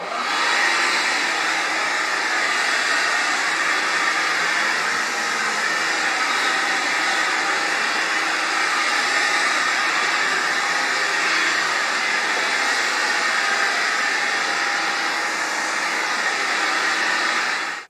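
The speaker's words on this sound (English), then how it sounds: "That was the Glide Cordless Hard Floor Cleaner." A Vax Onepwr Glide cordless hard floor cleaner washes laminate flooring, giving a continuous high-pitched motor whir with a broad hiss of suction and spinning rollers, steady and close throughout.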